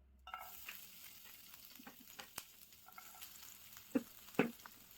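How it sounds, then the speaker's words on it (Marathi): Ginger and garlic sizzle faintly in hot oil in a pan, a soft continuous crackle with a few sharper pops and stirring clicks near the end. "ऑइल आपलं चांगलं गरम झालं आहे, याच्यामध्ये आता अद्रक आणि लसूण ॲड करू आपण"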